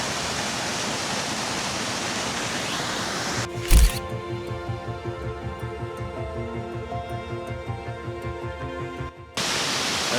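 Allerheiligen waterfall cascade in the Black Forest rushes as a steady broadband roar, then abruptly drops away mid-clip to a quieter, tonal background before the loud rush returns at the end.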